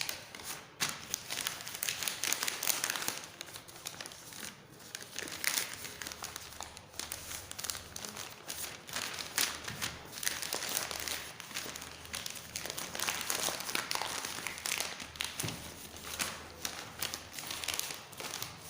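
Sheets of newspaper crinkle and rustle continuously as they are folded and wrapped around glass petri dishes during microbiology lab glassware preparation, close and steady for the whole stretch.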